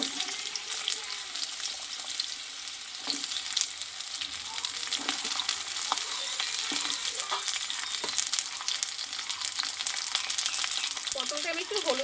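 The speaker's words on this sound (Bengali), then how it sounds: "আমি আগুতে এই পটলগুলো আমি কষে নেব" Pointed gourd (potol) fries in white oil in a kadai with a dense, continuous close-up sizzle, punctuated by irregular clicks and scrapes of stirring.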